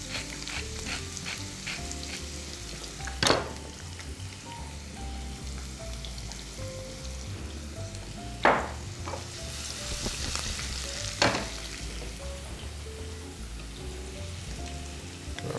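Celery sizzles and fries steadily in a pan, a continuous crackling hiss with a few louder sharp pops and stirring clatters, no voices.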